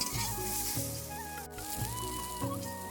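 Kalmi greens (water spinach) fry in a pan with a soft sizzle under steady background music with melodic tones, the hiss continuous and moderately close.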